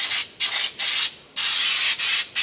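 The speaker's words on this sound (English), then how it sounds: "I'm going to go ahead and spray some glue right here" Spray adhesive hissing out of a can onto a square-body Chevy truck panel being sealed against rust, several close, loud bursts of spray separated by short pauses, no talking.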